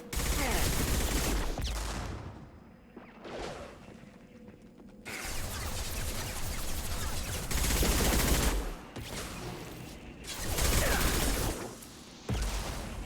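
Enemy gunfire rattles in dense bursts during a firefight in the sci-fi game Mass Effect 2, loud rapid automatic volleys broken by brief lulls, with faint talk underneath.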